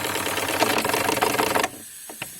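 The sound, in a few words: steam tug engine idling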